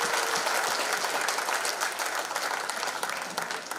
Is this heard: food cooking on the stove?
no